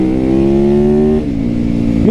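A supermoto motorcycle engine held at a loud steady drone close by, then dropping in pitch briefly before revving back up, with no talking.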